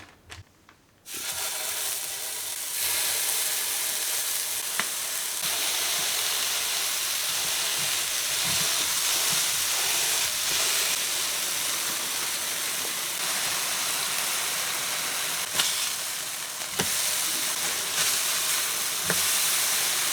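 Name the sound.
burger patties sizzling on hot griddle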